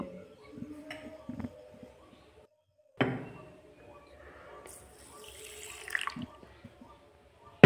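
Black and white mustard seeds are rinsed in a bowl of water, with soft intermittent sloshing and trickling that comes in short quiet bursts separated by near silence.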